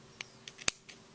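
A few quick snips of scissors cutting off the loose ends of crochet yarn after a double knot, isolated clicks spread over about a second, close and fairly quiet with no talking.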